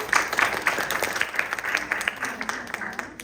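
Applause from the audience at a Hispanic-Latino family community meeting, a moderate patter of many hands clapping that holds steady for a few seconds before thinning out at the end.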